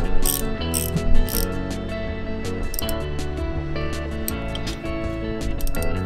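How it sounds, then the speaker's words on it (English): A socket wrench tightens a 5/8 silent hitch pin on a tow hitch, a steady rapid ratcheting click that runs continuously and fairly loud at close range, with a few sharper clicks at the start and end and no talk. "Use a 5/8 socket or wrench to tighten your hitch pin to 30 foot-pounds."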